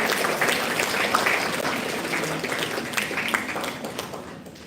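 An audience at an International Women's Day celebration gives a round of applause for a guest, dense steady clapping lasting the whole stretch before tapering slightly at the end.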